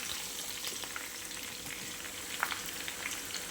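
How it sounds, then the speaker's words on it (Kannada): Bitter gourd fries in a pan of oil, a dense, even sizzle with faint crackles and pops throughout, close and steady with no speech. "ಫ್ರೈ ಆಗ್ತಾಯಿದೆ, ಎಣ್ಣೆ ಹಾಗೇ ಇದೆ ಕೆಳಗಡೆ."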